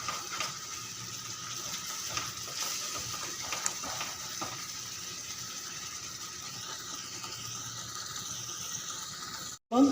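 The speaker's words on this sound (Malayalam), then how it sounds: "അപ്പം നല്ലോണം ഇടവിടാതെ ഇളക്കിക്കൊണ്ടിരിക്കണം" Thickening strawberry jam stirred steadily in a pan, with soft scraping and gentle bubbling that continues close and quiet, ending in a brief clatter.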